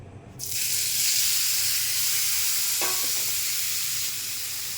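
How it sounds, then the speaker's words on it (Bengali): Baila fish dropped into a frying pan with a tablespoon of hot oil bursts into a loud, steady sizzle that carries on, with one brief clink partway through. "ফ্রাই প্যান গরম হয়ে গেছে এখন তেল দিয়ে দিলাম এক টেবিল চামচ এখন মাছটা ভাজা দিয়ে দেব"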